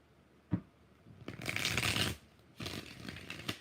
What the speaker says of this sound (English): Six shuffles for Monty.